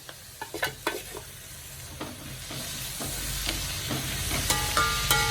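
Sliced onions and shallots sizzle in a pan for beef varattiyathu, a steady crackling fry that grows louder and denser, with a few sharp stirring taps early on.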